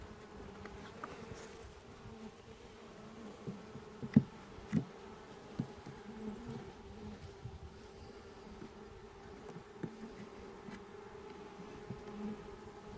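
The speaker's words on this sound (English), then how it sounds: "Nice gentle bees." A steady low hum of many bees buzzing from an opened hive during an inspection, close and continuous, with a few faint clicks and knocks.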